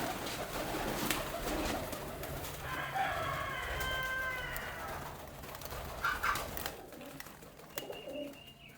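Several birds call close by, soft pigeon coos mixed with higher chirping calls from young birds, over a steady background hum.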